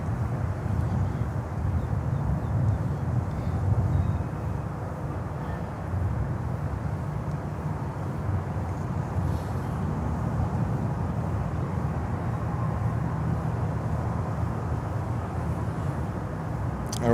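DHL cargo aircraft taxiing at Miami airport, a steady low engine rumble and whine heard from a distance, continuous and even with no voices.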